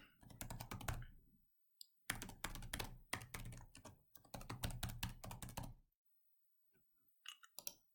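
Names or email addresses are typed on a computer keyboard in quick, close bursts of clicking keys, with a pause in between and a few scattered taps near the end.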